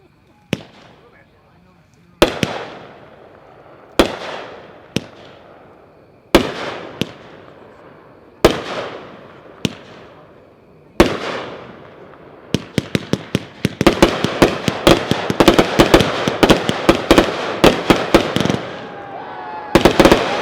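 Pyroland White Party firework cake, 30 shots. Sharp launch pops come at first with spaced pauses, then build into a rapid, loud volley of crackling bursts near the end.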